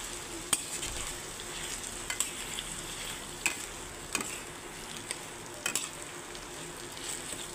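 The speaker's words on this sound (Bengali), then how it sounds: "চিকেনগুলোকেও আমি ভেজে নেব আস্তে আস্তে" Chopped chicken fries in a pan, producing a soft, steady sizzle at moderate distance, punctuated by irregular sharp ticks and clinks of a utensil stirring against the pan, with no voices.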